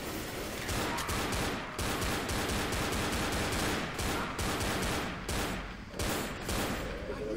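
Dense, continuous gunfire in the zombie shooter game Left 4 Dead, pistol shots crackling in rapid overlapping bursts for several seconds at steady high loudness with brief dips between volleys.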